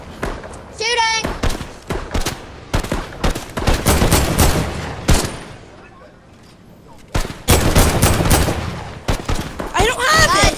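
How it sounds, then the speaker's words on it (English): Gunfire in a shooting video game crackles in sharp bursts and rapid single shots with heavy thumps, pausing briefly midway before resuming, while players talk excitedly throughout. "Shooting!"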